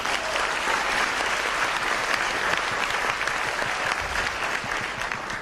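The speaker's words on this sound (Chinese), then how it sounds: "给你们自己本身一个掌声。" Sustained applause from a seminar audience, dense and steady clapping throughout with no voices over it.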